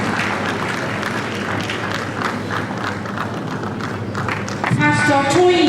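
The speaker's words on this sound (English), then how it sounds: "A round of applause for him, please." Audience applause at a leadership conference, a steady wash of clapping from a seated crowd that swells louder near the end, with bits of talk and hall noise underneath.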